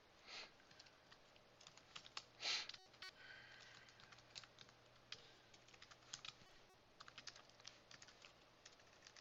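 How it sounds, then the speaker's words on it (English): Keys clatter on a computer keyboard while code is typed, producing quiet, irregular clicks with a few louder taps and short pauses, alone in a hushed room. "Then I'm gonna just type"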